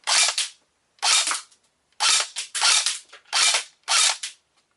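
A Black Ops tactical M4 Viper BB airsoft rifle fires on semi-auto. Six sharp, loud cracks come alone at roughly even intervals, each with a short rattle of mechanism.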